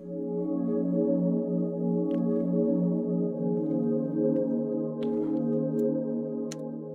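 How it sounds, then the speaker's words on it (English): A layered synth pad in an ambient beat holds a soft, sustained chord that drifts smoothly for several seconds, alone with only a few faint ticks. "then I layer that with a pad,"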